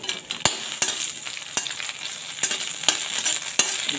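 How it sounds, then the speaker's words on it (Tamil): Okra sautés in hot oil in a pan, giving a steady close sizzle with sharp clicks from stirring every second or so, and no voices. "இப்போ இந்த வெண்டைக்காயை போட்டு நல்லா வதக்கிக்கலாங்க"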